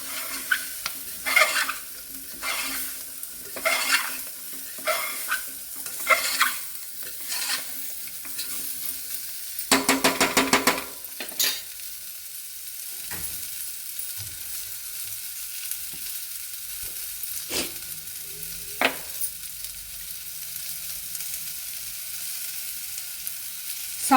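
Raw mango pieces, left with their peel on, stirred into dal in a pan, a spoon scraping in repeated bursts over a steady oil sizzle, with a brief clatter midway and then quieter bubbling.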